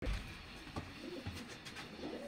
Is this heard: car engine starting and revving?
no